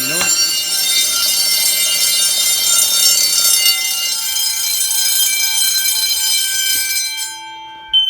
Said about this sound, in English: The reason I'm silencing the alarm because I'm not sure if my neighbors can hear it.